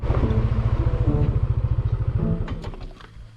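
A motorcycle ridden near a national park campground, its engine thumping in a loud, steady, close pulse that eases off toward the end as the rider slows.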